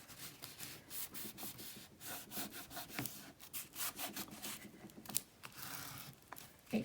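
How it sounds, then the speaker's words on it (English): Paper book cover being burnished by hand so the glue holds, a quiet repeated rubbing and scraping in steady back-and-forth strokes, close and faint with no voices. "I'm just kind of like burnishing it a little bit to help the glue to hold it as well"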